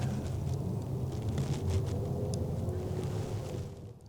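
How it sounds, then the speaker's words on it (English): Distant race car engines from Keystone Raceway drone faintly across an outdoor setting near a state park, a continuous low rumble with wind-like background noise and no talking. "The engines. That's the Keystone Raceway."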